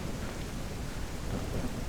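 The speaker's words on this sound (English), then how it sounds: "the rain is so bad, so heavy, so thick" Heavy rain pours steadily with deep rumbling thunder in a survival video game, a dense continuous roar with no voices.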